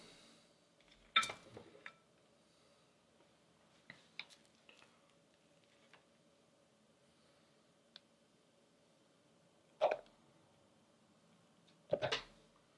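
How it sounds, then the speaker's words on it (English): Solid coconut oil scooped with an ice cream scooper for cold process soap: a few sparse, sharp scraping clinks with long quiet gaps between them, close and clear in a near-silent room. "This stuff kind of looks like ice cream once you start scooping it with an ice cream scooper."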